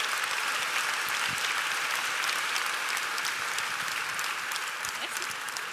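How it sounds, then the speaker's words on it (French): A full room of attendees at a civic presentation in Caen applauds continuously, a thick even patter that tapers slightly near the end, with faint murmurs mixed in. "Applaudissements."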